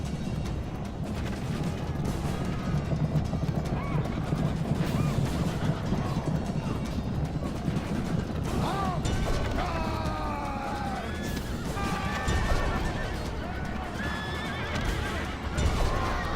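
Horses neigh and whinny repeatedly in a Rome: Total War – Barbarian Invasion battle with horse archers, over a dense rumble of galloping hooves and battle clamor, with sharp cracks scattered throughout.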